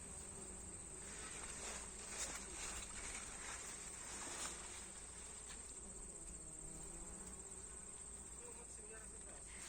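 A steady, dense insect buzz fills the air, many bees humming together on flowering Sakhalin knotweed at a constant level with no talking.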